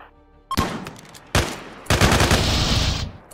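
Three sharp bursts of gunfire from a colony-building video game break out of near silence, the last stretching into a sustained, loud rattle of rapid shots.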